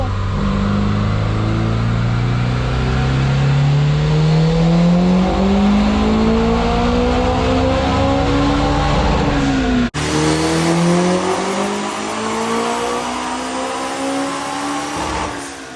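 Honda S2000 with a small turbo screaming through a dyno pull, the engine note climbing steadily for about ten seconds, a sharp shift break, then revving hard again, loud and close.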